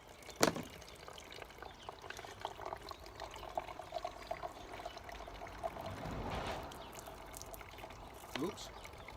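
Water is poured from a container onto peat to imitate rain in a simple outdoor experiment, giving quiet trickling and splashing bursts, with a voice speaking nearby.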